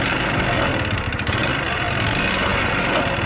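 Cheap motorcycle engine making a loud, abnormal running noise, a steady close-up mechanical drone with a rough, rattly texture throughout.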